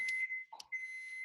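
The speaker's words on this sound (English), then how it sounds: "there's some beeping in the background" A background alarm beeping during a remote video call, with steady high-pitched electronic tones broken by a brief gap, faint and without talk.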